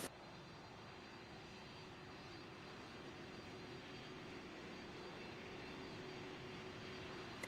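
A steady airliner jet engine roar at a runway in Pilot Training Flight Simulator, an even, unbroken drone held at constant strength throughout with a faint tonal whine on top, no voices.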